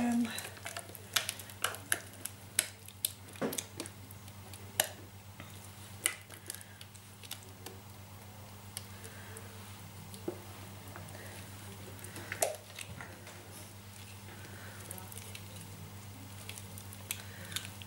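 Thick handmade pure silk soap mixture being stirred, giving faint, irregular wet clicks and soft squishes under a low steady hum, with quiet talk in the background.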